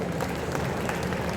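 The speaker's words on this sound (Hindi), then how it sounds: "तो अब ताली बजा करके जो इसको पास करें।" Crowd at a tribal community meeting clapping hands together in approval, a dense continuous patter of applause from many people, fairly close and filling the whole short moment.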